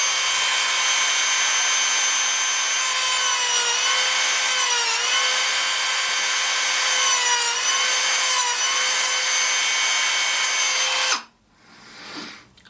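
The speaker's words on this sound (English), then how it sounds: "So I'll be cutting into the sides. Again, using the Dremel." A Dremel rotary tool cuts into the side of a Hot Toys Iron Man figure, producing a loud, high, steady whine that wavers slightly in pitch for about eleven seconds before stopping abruptly.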